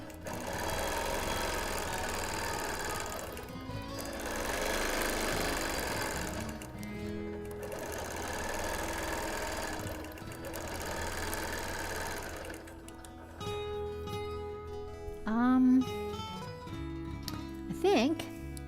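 A sewing machine stitches a custom Quilt of Valor, its rapid needle chatter running in long bursts with brief pauses, fairly close, followed by quieter handling sounds and small squeaks as the stitching stops.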